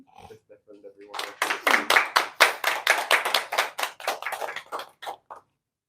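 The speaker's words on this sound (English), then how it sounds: "Give them a round of applause." At a wedding solemnisation, guests break into applause after a brief voice. The clapping swells into dense, rapid claps from a crowd for about four seconds, then thins out and stops.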